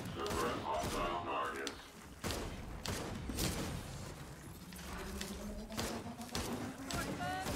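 Pistol fire in Gears of War 4 horde combat: repeated sharp shots in quick succession mixed with thumps and other loud game action, dense and close throughout.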